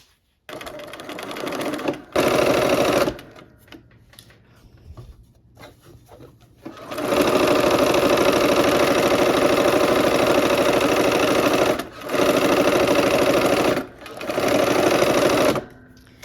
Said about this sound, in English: Let's sew this seam.